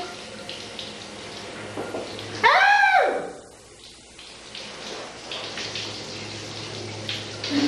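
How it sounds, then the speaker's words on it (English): Shower water runs steadily at a bathing session in a care setting, a continuous hiss of spray with a brief close splash, while a woman calls out once over the flow. "Let's look at a typical shower."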